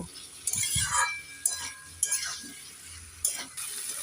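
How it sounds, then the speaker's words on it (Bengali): Potatoes and papaya are sautéed with spices in a pan for a fish curry. A spoon stirs them in short, irregular strokes, with clinks and scrapes over a faint sizzle. "এবার নেড়ে চেড়ে মশলার সাথে আলু আর পেঁপেটাকে তিন চার মিনিট ভালো করে কষে নেব"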